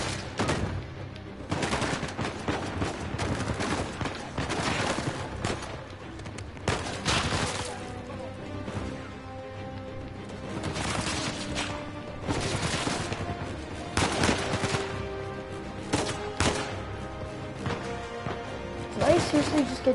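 Gunfire in Uncharted 4 rings out as repeated sharp shots and short bursts throughout a tense firefight, fairly loud and steady, with voices talking over the action.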